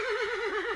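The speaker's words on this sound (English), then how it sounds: "let me introduce you to my horse" A horse in Forestry 2017 gives a short wavering whinny, a single clear, close, steady call lasting under a second.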